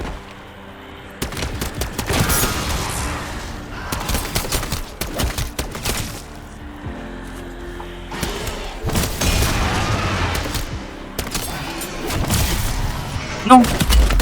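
Gunfire and booming blasts from a napalm explosion in Call of Duty MW3, loud and dense in bursts across the whole stretch, with a player talking over the action.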